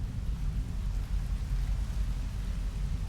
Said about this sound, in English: The rain is pouring down.